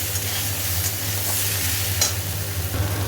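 Potato and cauliflower frying in a pan with salt and turmeric, a steady close sizzle with occasional stirring scrapes over a low kitchen hum.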